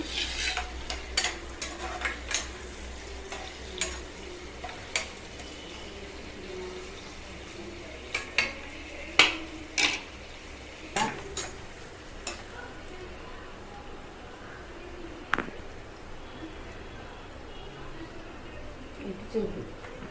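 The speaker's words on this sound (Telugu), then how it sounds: "కొంచెం వేగనిద్దాము" Chicken gravy base of onions and green chillies frying in hot oil in a pan, with a steady soft sizzle and repeated sharp scrapes of a spoon stirring, while a person speaks over it.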